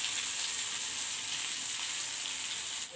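Spicy Kerala style fish frying in a pan, an even, continuous bright sizzle of hot oil held at steady volume from start to finish, with no talking.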